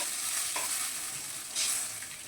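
Mustard-poppy paste with water is stirred in a pan for a bata fish curry, making a brief, fairly faint sizzle with soft scraping strokes of stirring and no voices.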